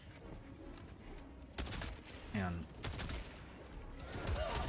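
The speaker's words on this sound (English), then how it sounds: "I'm firing at something 50 meters away." Weapon fire in the video game Helldivers 2 comes as sharp, loud bursts of rapid shots and blasts in the middle of the clip, with a voice talking over it.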